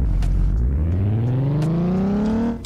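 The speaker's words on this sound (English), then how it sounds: "Ooh, this car actually sounds pretty nice to start up." Corvette engine in the Roblox Southwest Florida driving game cranking and catching, its tone climbing steadily from a low rumble to a higher revving whir before cutting off, loud and alone.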